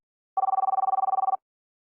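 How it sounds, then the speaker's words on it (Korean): An incoming call rings on a telephone as one short burst of rapid, evenly pulsed electronic trilling that lasts about a second, clear and close, with silence before and after and no voices. "잠시 눈을 좀 붙이라는 그때 지훈에게 전화가 온다."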